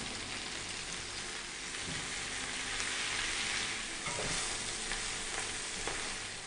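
Silverbeet (Swiss chard) stems sizzle steadily in a moderately hot fry pan, a dense continuous frying hiss with occasional stirring clicks, close and even throughout with no talk.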